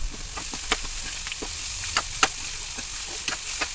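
Green chillies, carrot and beetroot pieces frying for beetroot fry, a steady close sizzle broken by scattered clicks and scrapes of a spoon mixing in the pan.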